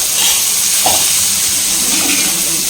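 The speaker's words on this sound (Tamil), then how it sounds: "தெரிக்க ஆரம்பிக்குது." Ground onion paste hitting hot oil in a pan for a mutton masala, loud close spluttering and sizzling with crackling pops throughout, no talk.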